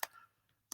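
Keys tapped on a computer keyboard while entering a location, two sharp clicks spaced apart in a quiet room, close and faint.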